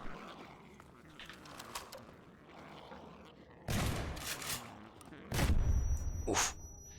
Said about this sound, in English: Spectacular explosion.